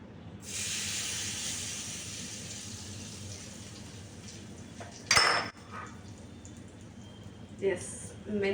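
Hot tempering hisses and sizzles as it is poured into a bowl of fenugreek chutney, a sustained close spray of sound followed by a sharp clink of a utensil against the bowl and a brief later rattle.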